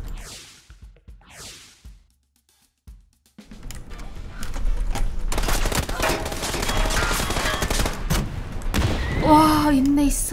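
A Panzerfaust fires in a video game: a sharp burst lands after brief whooshes and a quiet gap, followed by dense, sustained explosive crackle and gunfire-like clatter, with voices over the end.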